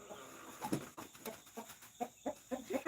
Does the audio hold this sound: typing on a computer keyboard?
no